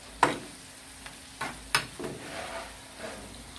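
Goat liver masala with red chilli powder being fried and stirred on a tawa, giving soft sizzling with a few sharp scraping strokes of the spatula, close and moderately loud with no talk.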